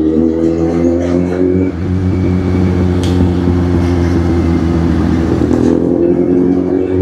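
Kawasaki Z800 motorcycle engine growling loudly and steadily up close, a deep continuous rumble with a brief dip partway through and a slight rise in revs later, no voices.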